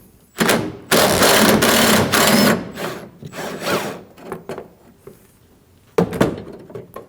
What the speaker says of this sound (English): To remove this, we'll go ahead and use a T40 Torx bit.